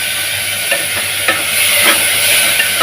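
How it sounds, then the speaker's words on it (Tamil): Tomatoes fry in ghee in a pan, a steady, loud, close sizzle running throughout with a few light stirring scrapes, no voices. "இந்த தக்காளி பழம் இதையும் போட்டுடலாம் கொஞ்சம் நல்லா ஃப்ரை பண்ணிப்போம்"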